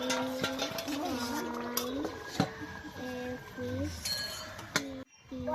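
A curry pot gets its lid put on and comes off the stove, with clinks of metal and glass, some scraping and stirring, and a sharp clatter near the end, all under a low kitchen background.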